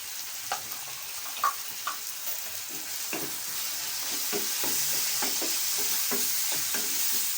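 Tomato pieces with turmeric fry in a pan for a Godavari-style fish curry, a soft sizzling hiss that grows steadier while scattered spoon scrapes and taps punctuate it, close by and without talk.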